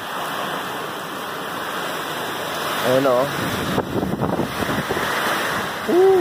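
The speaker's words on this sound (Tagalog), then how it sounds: "Sumasabay na yung malakas na ulan." Heavy typhoon rain with strong wind in Angeles City, Pampanga, a dense continuous roar of downpour and gusts close to the microphone, with a person speaking briefly over it.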